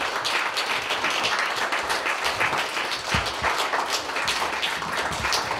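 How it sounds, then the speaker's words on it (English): Attendees at a National Action Network gathering give a sustained round of applause, a loud, dense, continuous patter of many hands clapping throughout. "And we want to give those people a great"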